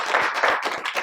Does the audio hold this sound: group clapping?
yes